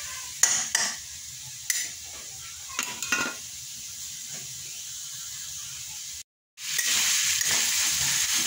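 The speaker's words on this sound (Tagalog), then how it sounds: "Laman at taba ng baboy. Yan, piprito mo natin sa sarili niyang mantika." Pork meat and fat sizzle as they fry in their own rendered fat in a pan, a steady hiss broken by a few sharp stirring clatters and a short gap before the frying resumes.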